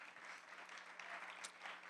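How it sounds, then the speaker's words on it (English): Audience applause at a Department of Energy talk on the house of the future, a steady wash of clapping from a room of listeners that holds evenly throughout, fairly faint and distant. "Yes, we can clap for that too."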